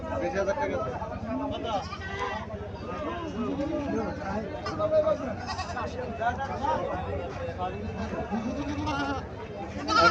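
Black Bengal goats bleat repeatedly at a busy village livestock market in Chandi Mura bazaar, Barura, Comilla. Their wavering cries mix with constant crowd chatter and people talking nearby.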